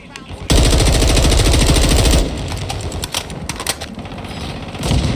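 A loud, rapid stream of automatic shots from a gun in a video game fires for about two seconds, then quieter scattered shots and game noise follow, with a voice talking over them.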